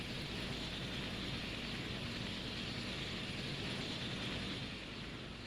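Helicopters spinning up in the naval video game Sea Power, a steady dense rotor and engine roar that holds constant throughout.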